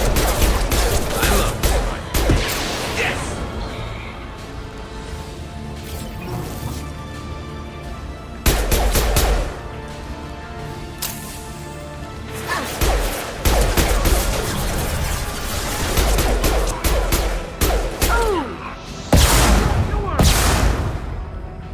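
Dense bursts of gunfire and explosive impacts from a firefight in the video game Mass Effect on Omega, with rapid shots, heavy booms and crashes recurring throughout, loud and close.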